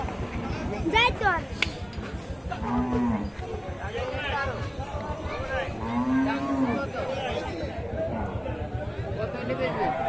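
Cattle lowing at a crowded livestock market ahead of Eid sacrifice, with several drawn-out moos rising over constant babble of people talking and haggling close by.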